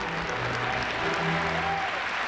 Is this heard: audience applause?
yes